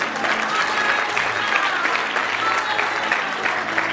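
A church congregation claps together in sustained, dense applause that fills the room at steady loudness, with faint voices mixed in.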